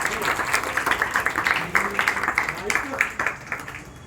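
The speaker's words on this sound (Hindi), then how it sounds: "जोरदार तालियां।" An audience claps loudly in a session hall. The clapping is dense and rhythmic, with some voices talking and murmuring underneath.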